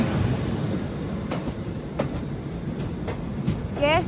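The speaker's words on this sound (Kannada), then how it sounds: "ನೋಡಿ, ನಮ್ಮ ಜನಶತಾಬ್ದಿ ನಿಂತಿದೆ ಇಲ್ಲಿ." A Jan Shatabdi express standing at a station gives off a steady, low mechanical rumble with scattered clicks and clanks, fairly close, and a faint high squeal rising briefly near the end.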